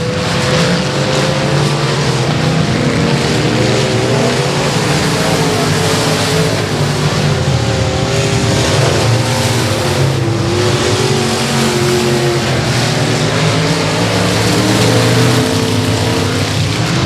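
Race cars on a dirt speedway at Boothill Speedway, engines droning loud and continuous through the turns with a steady roar of several cars together, no talk over it.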